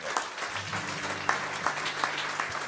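Congregation in a church service breaking into steady applause, a dense wash of many hands clapping with a few sharper peaks, sustained and fairly close throughout.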